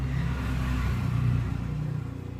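A car passes on the road outside the window, a steady mid-pitched engine hum and tyre rumble that swells and then fades as it goes by.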